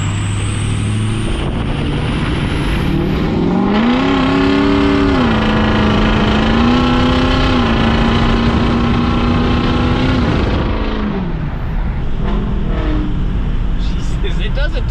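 A 6.0 Powerstroke diesel pickup truck runs loud and close, its engine note climbing as it revs, holding a steady higher drone for several seconds, then dropping back; voices talk over it.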